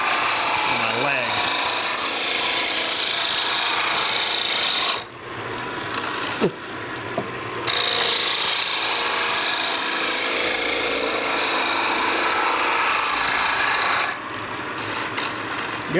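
A roughing gouge cutting a spinning wooden reamer body on a lathe makes a steady, loud, close rasping hiss that runs almost unbroken, dropping out briefly twice as the tool lifts away.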